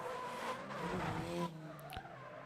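A Formula Drift car at a Great Lakes ProAm qualifying round drifts tight along the wall. Tires squeal over the revving engine, followed by a short scrape of contact, heard from a moderate distance.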